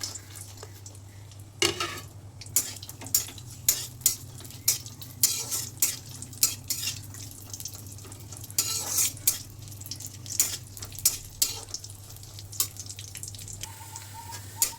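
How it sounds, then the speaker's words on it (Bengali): Cashews and raisins fry in ghee, giving a steady sizzle while a utensil scrapes and taps against the pan in a repeated stirring rhythm. A low constant hum runs underneath, and no one speaks. "ঘি দিয়ে কাজু কিশমিশটা ভেজে নিচ্ছি।"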